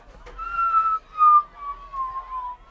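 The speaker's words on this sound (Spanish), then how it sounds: "se escucha como un pequeño silbido, como el que haría un objeto que se tira" A small, thin whistle like an object thrown through the air, a clear descending tone that drifts slowly lower over a couple of seconds, heard alone with no talk.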